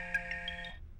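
A cell phone ringtone plays, a bright electronic melody with stacked tones that rings steadily for most of a second before cutting off, close and alone.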